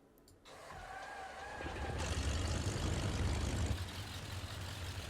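The engine of a Bf 108 Taifun aircraft in Microsoft Flight Simulator cranks and starts, swelling from a brief quiet into a steady low rumbling run that eases slightly toward the end.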